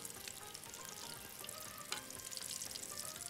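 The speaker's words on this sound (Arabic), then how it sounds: "وعلى العين التانيه شغال الثوم مع البصل" Garlic and onion frying in a pan, a steady close sizzle and crackle of hot oil with faint stirring, alone and without talk.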